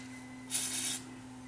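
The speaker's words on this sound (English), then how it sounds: "I'll spray it onto a Q-tip first." A single short hiss of WD-40 sprayed onto a cotton swab while overhauling a Dual 1249 turntable, a half-second burst over a faint steady electrical hum.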